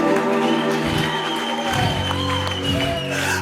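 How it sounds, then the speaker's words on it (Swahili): A church congregation claps for Jesus at a sermon, dense sustained applause across a crowd with a few voices calling out through it. "Pigie Yesu makofi"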